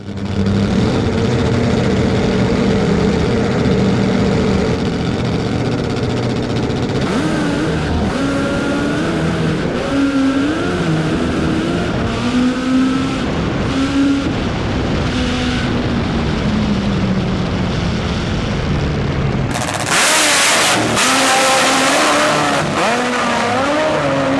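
A Harley-Davidson drag racing motorcycle launches hard down the strip at a Perth meet, its loud engine roaring continuously as the rear tyre spins, with a sharp burst of noise near the end.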